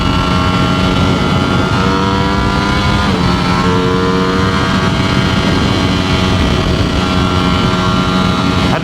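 A Ducati Streetfighter V4S motorcycle engine screams at around 13,000 RPM in third gear while riding, a loud sustained high-pitched howl with rising and shifting harmonic tones and heavy wind rush throughout.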